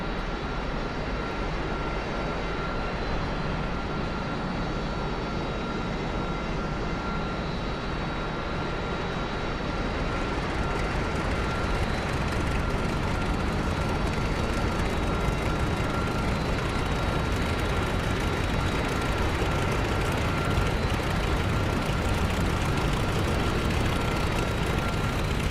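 A jet engine starts up inside the DCS flight simulator game: a steady, close roar with a thin high whine that grows brighter and fuller about ten seconds in, then holds at a constant loud level with no voices.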